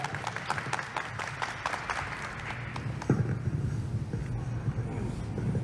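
An audience applauds as veteran actress Pan Hong is called on stage at a film's opening-day ceremony. Moderate, steady clapping fills the room, with a louder burst of crowd noise and thumps partway through.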